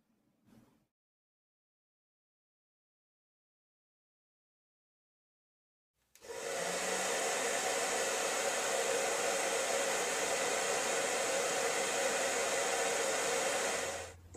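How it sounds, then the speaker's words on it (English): A hair dryer pushing airflow for a ping pong ball science experiment switches on after a long silence and blows with a loud, steady whooshing roar until it cuts off. "the airflow from the hairdryer pushes the ping pong ball up"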